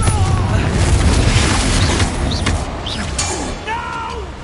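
The Confringo fire spell explodes in the Hogwarts Legacy video game, giving loud booming blasts with crackling bursts and whooshing effects, layered with game sounds throughout.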